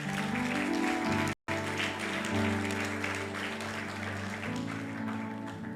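Church congregation applauding after a sermon on Christian marriage, a broad steady wash of clapping lasting several seconds with a brief gap, sustained organ or keyboard tones underneath.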